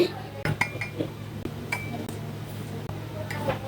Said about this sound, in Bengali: আমি এই তো অল্প পরিমাণে চিনি দিচ্ছি।